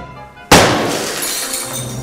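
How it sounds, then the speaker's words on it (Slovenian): The tempered outer pane of a Velux roof window shatters under a blow: a sudden loud crack followed by a sustained tinkling spray of breaking glass. "je bilo potrebno precej krepkih udarcev, da se je steklo razbilo"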